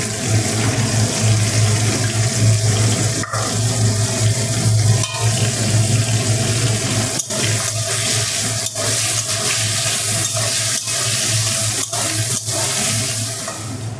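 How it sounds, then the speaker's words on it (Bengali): Yard-long beans frying in oil in a kadai give a loud, steady, water-like sizzle with a low hum underneath and scattered sharp pops and clicks throughout, with no voices. "এইবার বরবটিটা ভেজে নেব"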